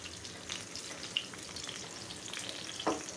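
Pointed gourd (potol) fries in hot oil, a steady close sizzle and crackle with small spits and pops, and a brief clatter near the end.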